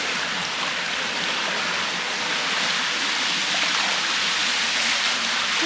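An outdoor shower beside a pool sprays water in a steady, close, hissing rush onto a person, continuous and unbroken with no voices.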